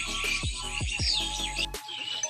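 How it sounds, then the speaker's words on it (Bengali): Birds chirp and twitter from bamboo trees in a village setting, a dense, busy chorus of high calls moderately near, over a low droning hum that cuts out near the end. "বাঁশ গাছের মধ্যে পাখি দেখা যাচ্ছে না ঠিক, কিন্তু পাখির কিচিরমিচির আওয়াজ কিন্তু খুব।"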